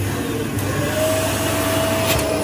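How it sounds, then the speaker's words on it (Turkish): A household vacuum cleaner runs continuously at a steady, fairly loud level, a broad whooshing motor drone with a faint thin whine running through it. "Süpürgeyi başlatır mısın Tuna?"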